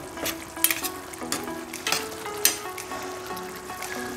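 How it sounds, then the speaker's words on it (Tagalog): Dinuguan sizzles in a pan while being stirred, with scraping utensil strokes and clinks over a continuous frying hiss, and no one speaking. "Halu-haluin lang."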